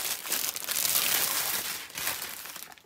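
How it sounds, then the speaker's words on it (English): Plastic packaging of a diamond painting kit crinkled and crushed by hand, close and fairly soft, in a continuous rustle with no talking. "So there'll be a little bit of crinkling first."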